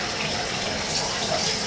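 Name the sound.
hot water tap running at full bore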